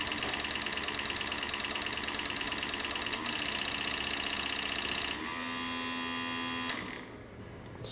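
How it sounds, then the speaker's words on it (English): Electric motor driving a hydrogen thruster runs with a steady whirring hum, then shifts to a smoother tone partway through before winding down near the end. "this motor basically powers the hydrogen thruster."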